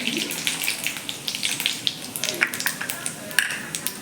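Tempering for Khandeshi baingan bharit: curry leaves, mustard seeds and cumin sizzling in hot oil in a kadhai on low flame, a steady crackling hiss with sharp pops scattered throughout.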